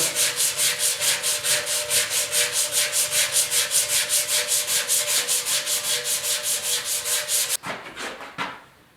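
Rhythmic hand sanding on the steel fuel tank of a 1974 Yamaha RS 100, working out a dented spot; steady back-and-forth rasping strokes repeat about three times a second, close and even, then stop with a few scrapes and knocks.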